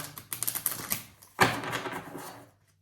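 Oracle cards being shuffled by hand, a fast run of crisp papery riffling clicks, then a louder slap and brief flutter that fades out, close-up with no talking.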